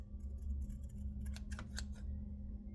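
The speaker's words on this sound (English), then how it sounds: "Then you just want to make some snips." Several sharp scissor snips in quick succession, close by, over a steady low hum, with no talking.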